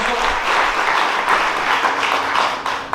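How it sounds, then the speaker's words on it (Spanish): Worshippers in a church service break into strong, sustained applause for God, a thick even roar of many hands clapping that holds steady and fades slightly at the end. "Den un fuerte aplauso a Dios Todopoderoso."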